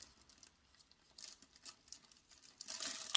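Red dot optic being pulled from a small plastic bag, faint close crinkling and rustling that swells into louder crackling plastic at the end.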